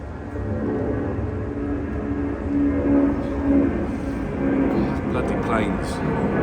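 A plane passes overhead beside the River Thames where someone is fishing, a loud, steady broadband roar that swells slightly and holds for several seconds.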